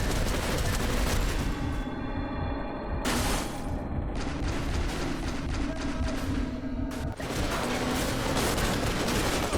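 Continuous gunfire from the video game Wheelman during an on-foot shootout, rapid overlapping shots and booms stacking into a steady loud barrage for the whole stretch, with no talk over it.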